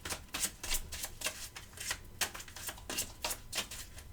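Tarot cards are shuffled close up in quick repeated riffling bursts, a rhythmic papery flutter of about a dozen strokes, quiet and without talk.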